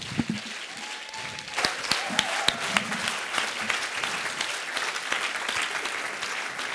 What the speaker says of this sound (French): je vous prie de faire un tonnerre d'applaudissements pour Ibrahima Sidi.